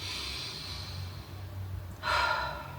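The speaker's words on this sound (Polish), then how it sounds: "teraz muszę wziąć sobie też kilka oddechów" A woman takes slow, deep breaths close to the microphone, soft and airy at first, then one stronger, louder inhale and exhale near the end.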